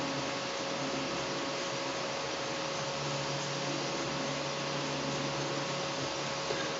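Polysher machine smoothing a PLA 3D print, giving a steady, continuous whirring hum with a fixed tonal drone throughout, fairly faint and unchanging, with no talk.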